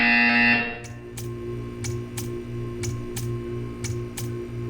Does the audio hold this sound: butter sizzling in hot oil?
no